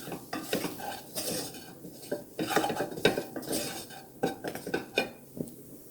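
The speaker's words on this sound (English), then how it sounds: "Just start to brown the flour a wee bit." Flour browns in a pan of sausage gravy while a utensil stirs and scrapes, producing repeated clinks and scrapes against the metal in an uneven rhythm, close and clear with a faint sizzle beneath.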